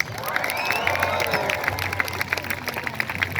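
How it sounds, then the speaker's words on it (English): Street crowd at a buskers festival in Toronto clapping and cheering for a performer, a mix of scattered claps and voices at moderate distance. "Come on, give her a big clap, folks."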